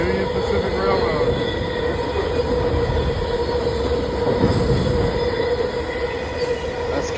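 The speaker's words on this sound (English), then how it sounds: "Look how long this train is" Long Union Pacific freight train rolling past beside the railroad, a loud continuous rumble of wagons with squealing wheels and clacking, steady throughout, with faint voices underneath.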